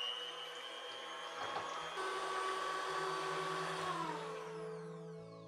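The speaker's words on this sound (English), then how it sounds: "Now that all the wet ingredients are together, we need to mix them together." An electric mixer or blender whirs steadily as wet ingredients for a vegan chocolate geode cake are beaten until foamy, a continuous close motor drone with shifting pitch that winds down near the end.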